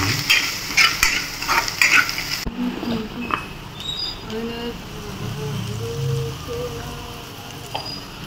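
Coriander and chili powder stirred into hot oil in a home kitchen, with a steady sizzle and scraping spoon strokes, louder clattering at the start, then a softer ongoing fry with faint voices in the background.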